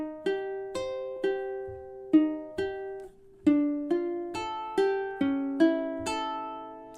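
A ukulele etude fingerpicked with a three-finger approach, measures 7 and 8. Roughly fourteen steady plucked notes follow in even rhythm, bright and close, with a brief gap midway, played solo without speech.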